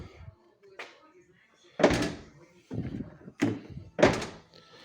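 Front door of a Jaguar I-Pace with a repaired aluminium panel being closed gently: several dull, solid thunks spaced a second or so apart, close by, with quiet sounds in between.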